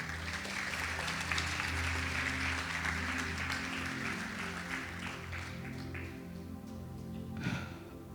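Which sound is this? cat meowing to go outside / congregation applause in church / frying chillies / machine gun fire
congregation applause in church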